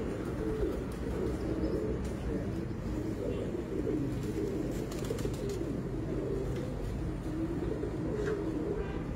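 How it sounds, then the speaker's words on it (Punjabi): Domestic pigeons coo steadily in a loft, a dense low rumbling chorus of overlapping calls that continues throughout, with faint chirps and background activity. "ਚੈਂਪੀਅਨ ਕਬੂਤਰੀ ਹੈ"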